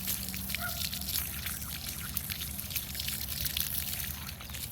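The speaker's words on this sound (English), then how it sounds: "I'm gonna give it a good watering. So just give it a really good soaking" Water pours steadily onto the soil around a newly planted bare root apple tree, a continuous close trickling splash that lasts throughout with no pauses.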